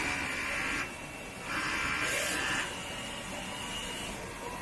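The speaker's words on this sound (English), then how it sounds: "then we do the nozzle check again to check if the nozzle print good or not." A DTF printer printing a nozzle check gives a steady whirring hum that shifts in pitch and level as the print carriage moves back and forth, heard close and alone.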